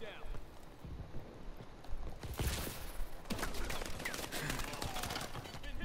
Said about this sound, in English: They're shooting me from nowhere.